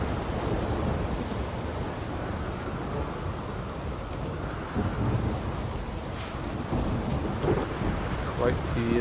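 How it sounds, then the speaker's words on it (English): A thunderstorm in The Witcher 3 roars with steady heavy rain and deep rolling thunder, a dense continuous wash of noise with a few swells and sharper cracks, no voices heard. "Quite the intimidating storm."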